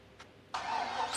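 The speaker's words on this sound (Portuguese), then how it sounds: "O carro tá pronto e funcionando." A Chevrolet Caprice built as a drag car fires up after a short cranking click, catching at once into a loud, steady idle that runs to the end.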